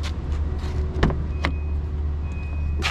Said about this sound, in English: Power seats.